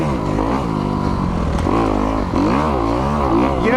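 A Kawasaki KX250X dirt bike revs loudly in snow, its engine pitch rising and falling through quick throttle blips, close and continuous.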